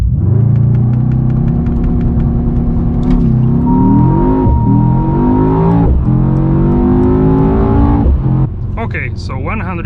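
A 2021 Mercedes E63S AMG sedan launches hard in a drag race, its engine roaring loud and close as it climbs through rising revs, with gear-change dips and a sharp drop in load near the end.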